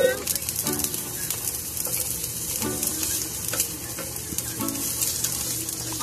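Chopped onion hitting a hot pan for adobo, a continuous bright sizzle with light scraping and clinks from stirring, close and steady, with a voice talking now and then.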